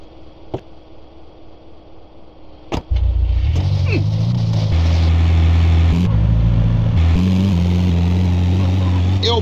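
A car in GTA San Andreas starts up and pulls away with a loud, steady engine drone and revving that continues for several seconds after a couple of sharp knocks, with no talk.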